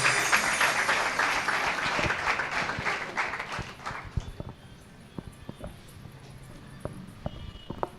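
Congregation clapping at a watch night church service, dense rhythmic applause filling the room that thins out into scattered individual claps.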